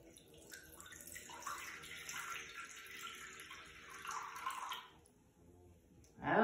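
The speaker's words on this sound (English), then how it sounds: "I'm going to pour some water in these jelly beans" Water poured from a container into a cup of jelly beans, a steady splashing pour for about five seconds, then a brief pause and a louder final gush of liquid.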